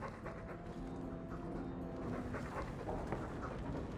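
Dog in Dragon Age II panting steadily with thin, high whimpering tones woven through, close and continuous at a moderate level, without any talk.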